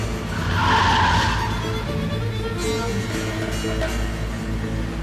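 A car in a Turkish street crash slides with its handbrake pulled, producing a sustained tire screech that peaks early and tails off over a steady engine drone, with no voices.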